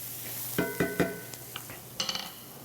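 A pan of lemony chicken sizzles quietly under a few sharp stirring scrapes and clinks of a utensil against the pan, close by with no talking.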